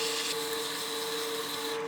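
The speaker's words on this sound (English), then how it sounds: "When you're sanding a piece like this, you want to be careful with your chuck jaws." Sandpaper at 220 grit rubbing a spinning wooden utility box on a woodturning lathe at reduced speed, a steady close hiss over the lathe's constant motor hum, with no talking.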